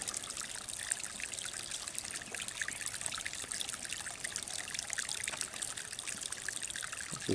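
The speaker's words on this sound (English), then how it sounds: "The siphon's coming out right there." Water from a pond siphon trickles and pours steadily throughout at close range, a constant bright splashing stream with no voices.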